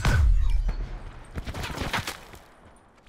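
Video game gunfire, rapid volleys of shots, some clustered like automatic bursts, loud and close at first, then thinning into scattered cracks and fading toward the end.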